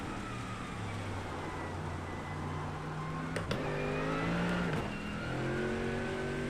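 A GT race car engine in the iRacing sim at Algarve International Circuit in wet conditions drones steadily, with quick upshift blips and rising revs in the middle, alone and continuous.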